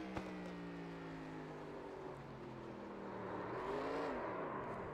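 Onboard race car at North Wilkesboro, engine droning steadily with harmonic tones sliding down then rising as the throttle is worked, a continuous loud rev close to the microphone with no talk.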